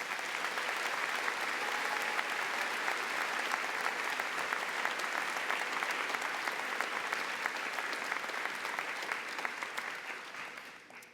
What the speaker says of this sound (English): please join me in a round of applause for all of our local scholarship sponsors